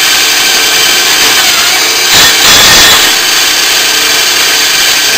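An Enco tapping head on a machine running at about 600 RPM drives an oiled 1/2-13 tap into a hole, a steady loud machine whir with a short surge of cutting noise midway.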